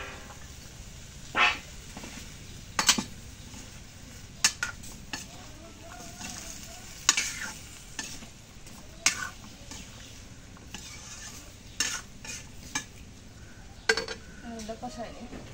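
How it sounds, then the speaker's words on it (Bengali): Curry is stirred and sautéed in a pan, with a spoon clattering and scraping against metal in irregular bursts over a low sizzle, while people talk faintly in the background. "তরকারি এখন কষানো হয়েছে"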